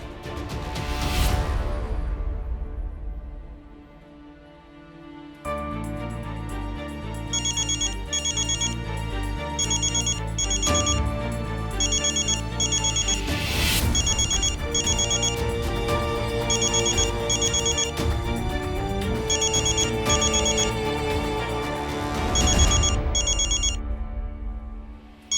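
A phone rings after a number is called back, its repeating electronic ringtone pattern playing steadily and loudly for a long stretch after a brief swoosh at the start.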